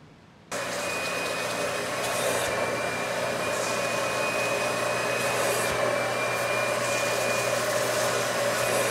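A vacuum cleaner cleaning a couch switches on abruptly and then drones at a loud, steady pitch with a faint high whine, with no talking.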